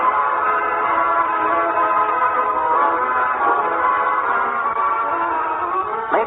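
A radio-show steam train chugs steadily along with a sustained, multi-tone whistle sounding over the rolling rhythm, loud and close, ending with a brief rise in pitch.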